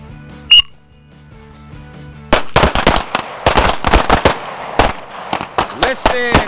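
Handgun shots at a shooting event, a sharp cluster of loud close cracks after a quiet start, repeated in quick bursts with short gaps.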